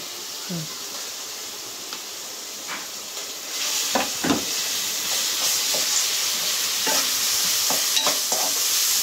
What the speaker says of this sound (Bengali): তো দিয়ে লাড়া দিয়ে দিব